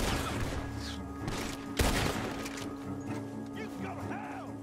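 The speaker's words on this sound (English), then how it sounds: "Gunshots are coming from that barn!" Gunfire rings out during a shootout at a barn in the video game Red Dead Redemption 2, with one loud crack in the middle and other shots mixed under shouting voices and game sounds.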